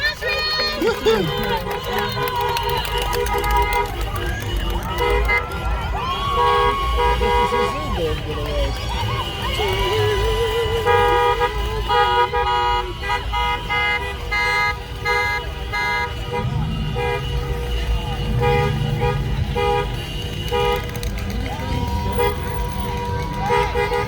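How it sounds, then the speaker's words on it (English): Car horns honk repeatedly during a neighborhood graduation parade, with tonal toots sounding over engine noise while people talk and chatter nearby throughout. "We're the only one honking."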